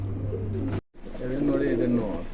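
Pigeons coo in low, throaty rolling calls, close by and steady at a pigeon showroom, broken by a brief silent gap before the cooing resumes.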